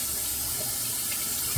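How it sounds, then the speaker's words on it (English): A brush is rinsed under running tap water, giving a steady, close hiss of water that continues throughout without voices. "I'll rinse this brush out"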